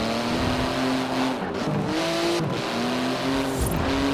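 A street-legal racing car in Forza Horizon 4 drives under a loud, steady engine drone, its pitch rising and dropping through gear changes, with brief dips between shifts and a faint tire squeal.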